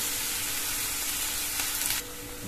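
Onions and ground tomato sautéing in a pan for chilli idli, a dense steady sizzle close by that drops suddenly in level near the end, with no talking.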